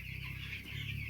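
Broiler chickens on a commercial poultry farm cluck and murmur softly in a brief, faint stretch of overlapping calls.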